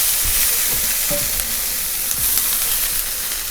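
Diced capsicum sautéing lightly in a pan for quinoa tofu tacos, a steady close sizzle with soft low scraping stirs, no talk.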